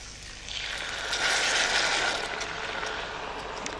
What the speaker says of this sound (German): hier haben wir jetzt noch fein gehackte Riebli, Sellerie und Lauch dazugegeben. Auch das leicht anbraten und dann ablöschen.